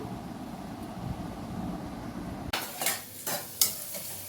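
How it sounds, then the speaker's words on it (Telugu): Veld grape (nalleru) stems stir-fry in a pan, starting as a soft low sizzle before a sudden sharper burst of crackling, followed by several distinct scraping stirs and clatters against the pan. "నల్లేరు బాగా ఫ్రై చేసేసుకోవాలి, ఎర్రగా రావాలి."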